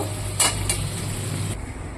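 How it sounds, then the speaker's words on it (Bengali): Potatoes frying in a pan of oil in a home kitchen, a steady hiss throughout with two brief brighter bursts near the start, like stirring, before the sizzle drops away toward the end. "আলুটা ভাজার জন্য বসিয়ে দিয়েছি"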